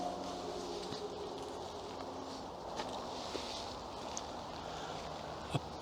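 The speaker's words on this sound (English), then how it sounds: "that noise in the background is a train passing by on the railway line beneath us." A train passes on a railway line below a hillside cemetery, a faint distant rumble with steady low hum and a few light knocks and clicks nearby.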